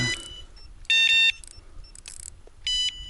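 An electronic device at a fishing camp by a pond emits short, piercing beeps in a few separate bursts, loud against faint background noise with no talking.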